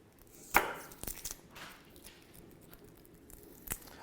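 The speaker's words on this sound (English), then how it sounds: "Lay a flat knife, give it a whack to crack it" A flat knife whacks garlic cloves on a board to crack them, giving a few sharp, close thumps, the loudest near the start and another near the end, with quiet gaps between.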